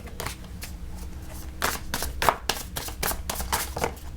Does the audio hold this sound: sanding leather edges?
no